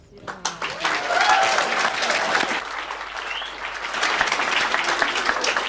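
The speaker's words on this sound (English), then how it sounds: "Round of applause for Samira and the community camp." An audience at a community camp event claps in sustained applause that swells and continues to the end, with a few scattered voices and a cheer in the crowd.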